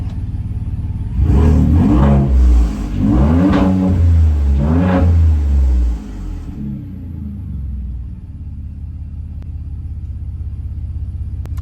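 A remote-started car engine revs hard three or four times in rising, throaty bursts over a low idle, then drops back to a steady rumble.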